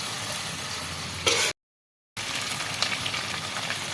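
Onion and garlic frying in a pan, a continuous soft sizzle that briefly swells, then cuts to a short silence before the sizzle resumes at an even level.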